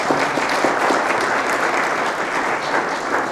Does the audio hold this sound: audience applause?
yes